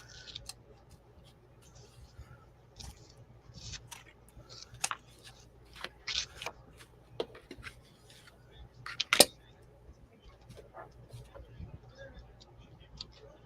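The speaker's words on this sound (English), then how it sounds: "I could have got my trimmer out, and this probably could have went faster, but I like using my scissors" Scissors snipping around paper mixed media tags, a run of small crisp cuts and clicks at irregular spacing, close and quiet, with a louder snip near the middle and a soft background hum.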